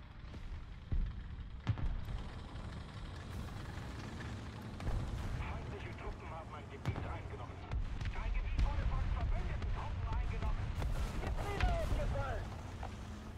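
Several sharp gunshots and booms from War Thunder go off at irregular intervals, some near and some distant, over a background of continuous game noise and talking.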